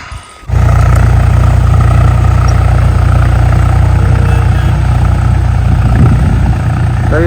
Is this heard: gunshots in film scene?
no